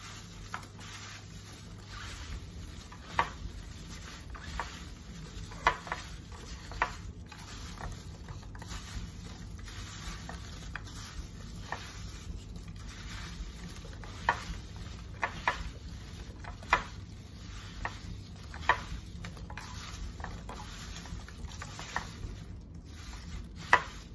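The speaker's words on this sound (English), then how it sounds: "Then you have to crumble it and mix together." Sugar is crumbled and mixed by hand into an apple crumble topping, giving soft, irregular rubbing and scattered light taps and scrapes against a bowl, close and quiet.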